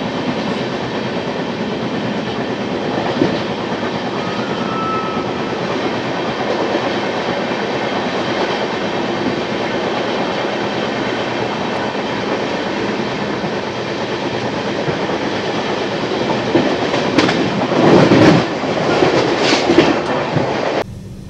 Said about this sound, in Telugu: సో ఇప్పుడే బరేలీ జంక్షన్కి అయితే వచ్చింది ట్రైన్.